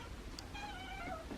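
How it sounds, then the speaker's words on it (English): A cat meows at breakfast time while raw food is served, a single drawn-out, somewhat faint cry over quiet room noise. "I'm bringing some breakfast to the cats."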